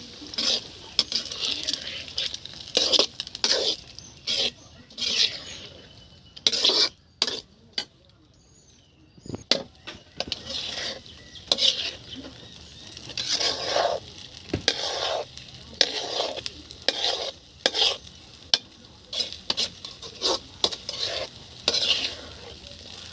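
A spatula scrapes and stirs egg into Maggi noodles in a pan over a fire, sharp repeated strokes over a soft sizzle, with a brief quieter gap partway through and faint voices in the background.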